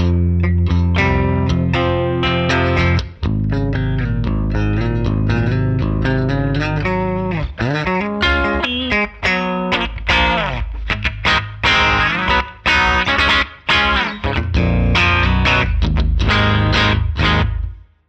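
An electric guitar fitted with a Corrigan HiFi XL pickup plays a loud, sustained riff-driven passage through heavy distortion and effects, with ringing chords, quick stops and choppy palm-muted bursts throughout.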